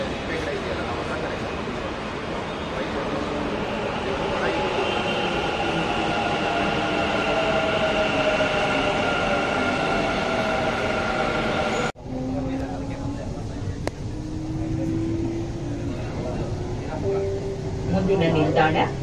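A Bangalore Namma Metro train runs with a steady, loud rumble and whine heard from inside the carriage, then shifts abruptly to a quieter rolling hum with rising electric motor tones.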